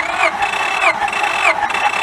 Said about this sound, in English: You hear when it cranks 3 times?